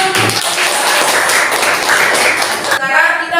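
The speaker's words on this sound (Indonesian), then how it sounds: "Iya, tepuk tangan." A classroom group breaks into dense, even clapping for a few seconds, close and fairly loud, before the applause stops and a voice begins speaking.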